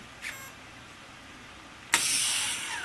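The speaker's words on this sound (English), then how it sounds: "And obviously the motor is working." An RC helicopter's electric motor, set up on the bench, whines up sharply on throttle after a short beep, the high-pitched spin holding steady and fairly close.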